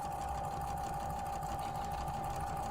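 A sewing machine runs steadily and continuously at close range, stitching fabric pieces together with a constant whirring hum.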